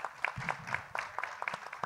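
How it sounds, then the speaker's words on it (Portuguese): Sparse, quiet hand claps from an audience at a literary panel, applauding the Libras sign language interpreters, heard as scattered soft claps over a brief moment. "Uma salva de palmas."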